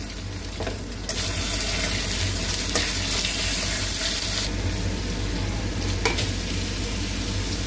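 Meat hits a hot wok and sizzles loudly and continuously, with bursts of crackling and stirring scrapes, cooked with ginger, chili and preserved vegetable, close up with no voices.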